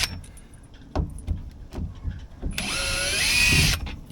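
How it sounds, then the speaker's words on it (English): A power drill backing screws out of a boat cover on a Drascombe Lugger, a one-second whine following scattered clicks and handling knocks; close and fairly quiet. "Let's get all the screws off."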